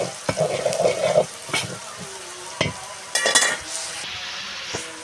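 Bay leaf and cumin sizzle in hot oil while a spoon stirs and clinks against the pan, with a few sharp splatters; the sound is close and there is no talk.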